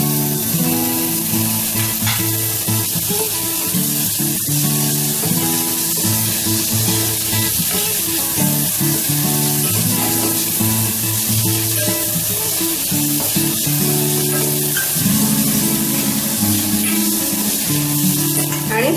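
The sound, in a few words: tomatoes added to a frying pan with ginger garlic paste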